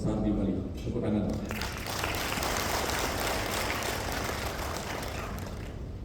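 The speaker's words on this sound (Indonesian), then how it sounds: "Tepuk tangan." An audience at a motivational seminar reunion breaks into applause, a thick sustained patter of clapping that swells after a brief opening and holds steady to the end.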